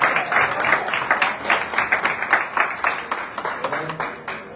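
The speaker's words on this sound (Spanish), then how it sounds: "le pido pues, un aplauso" Applause from an audience at the inauguration of a lactation room in the Colima state congress, a steady roomful of clapping with rhythmic peaks, lasting several seconds, with no talk over it.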